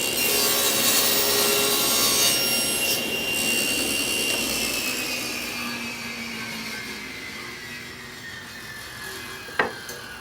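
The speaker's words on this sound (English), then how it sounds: "head back over to the saw and make our cut" A saw cuts through wood for a face frame cabinet. The loud whining rasp runs steadily close by and slowly winds down, and a sharp knock comes near the end.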